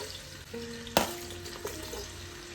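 Onions fry in a mix of Dalda and oil for mutton pulao, a soft continuous sizzle broken by a sharp clatter of a utensil against the pan and a lighter knock soon after.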